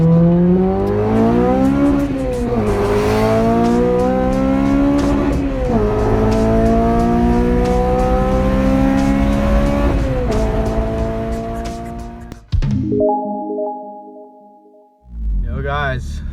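A Honda K20 Type R four-cylinder engine, naturally aspirated at over 200 hp, revs hard through repeated rising pulls with loud climbing harmonics, then cuts to a steady idle-like drone before revving again near the end.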